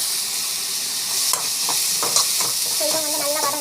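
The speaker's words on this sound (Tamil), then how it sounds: "சாட் மசாலா ஆட் பண்ணி நல்லா வந்து வதக்கிக்கோங்க." Onions sautéing with chaat masala and salt in a pan, a constant close sizzle broken by a few light stirring scrapes, no one speaking.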